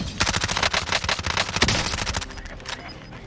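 Rapid automatic MP5 fire in Call of Duty: Warzone, a close, loud burst of quick shots for about two seconds that tapers into fainter rattles.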